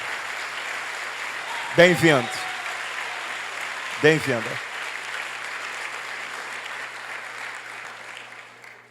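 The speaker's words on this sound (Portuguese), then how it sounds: "Vamos aplaudir o Senhor" Church congregation applauding to welcome arrivals at a worship service, a steady broadband wash of clapping throughout with a voice briefly speaking twice over it, fading toward the end.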